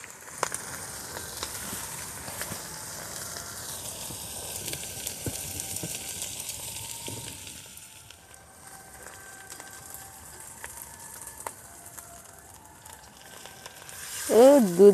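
Lakshmi kajal fish frying in a pan over very low heat gives a soft, steady sizzle and hiss that continues throughout, dips slightly partway through, and rises into a brief louder burst at the very end.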